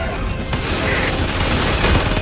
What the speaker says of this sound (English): We need to keep firing.